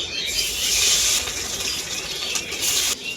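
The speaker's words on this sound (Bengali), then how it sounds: "বাকি মাছগুলো আমি একইভাবে ভেজে নেব" Fish frying in hot oil, a steady loud crackling hiss with faint popping throughout, no voices.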